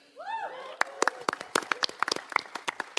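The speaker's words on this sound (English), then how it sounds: "That was a very quick applause break" A live podcast panel audience at WonderCon 2017 breaks into brief applause, a patter of individual claps after a short whistle-like whoop, thinning out quickly.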